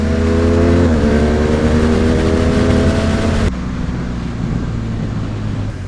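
A motorcycle on a road-riding training run pulls away under steady throttle, a loud, continuous engine drone with harmonics that rise and then shift as a gear changes partway through, heavy wind rush underneath.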